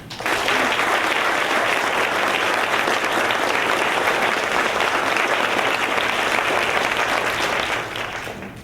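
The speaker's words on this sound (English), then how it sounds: "please join me in a warm round of applause for OneSpark Executive Director Joe Sampson." Dense, loud applause from an event audience, continuous for about eight seconds before fading out at the end.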